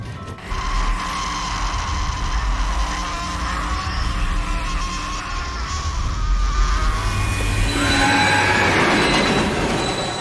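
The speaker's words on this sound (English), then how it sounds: "There's just a train literally on fire." A burning train rolls past in Dead Space 2, a loud continuous rumble of wheels with metallic squeals and hiss rising toward the end, no talking.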